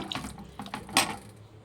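Water poured into a pot of sambar made with greens, a short splashing gush that swells near the end, close and alone.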